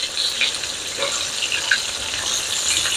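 Chicken fried steak fries in plenty of hot oil in a big pan, a loud, close, continuous sizzle with crackling bursts and no talking.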